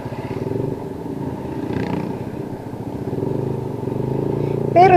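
A Yamaha NMAX 155 scooter with an Akrapović full exhaust runs nearby with a full, pulsing low burble that rises and falls slightly, ending on a brief sharper accent.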